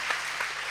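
A brief burst of crowd applause, dense steady clapping from many hands in a room.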